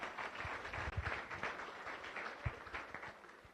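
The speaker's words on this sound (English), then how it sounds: "So please give a round of applause to all of our visiting Rotarians and guests." A room of Rotary club members and guests gives a sustained round of applause, steady and fairly distant, with scattered louder claps and no talking over it.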